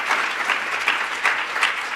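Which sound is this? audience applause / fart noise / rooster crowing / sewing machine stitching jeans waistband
audience applause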